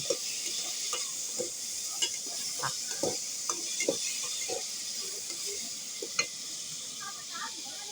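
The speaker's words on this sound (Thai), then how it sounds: "น้ำมันผัดพริกแกงแล้วก็เอาหมูลง" Pork stir-frying with curry paste in oil, a soft continuous sizzle under repeated clicks and scrapes of a spatula against the pan, fairly close and moderately quiet.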